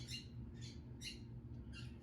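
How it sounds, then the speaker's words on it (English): Pet birds squawk in four or five sharp, high-pitched calls spaced through a quiet indoor room with a low steady hum, somewhat distant and without any talking. "Sorry about my birds."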